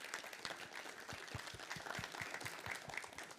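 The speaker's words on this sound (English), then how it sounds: "But a big round of applause for Xandra." Festival talk-session audience clapping in a steady round of applause, faint and distant, with a dense patter of hands continuing throughout.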